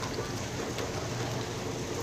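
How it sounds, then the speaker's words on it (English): Steady outdoor rain pours down in a hot-weather shower, a dense, continuous hiss of drops hitting the ground and draining water, fairly close and even throughout with no voices. "Raining."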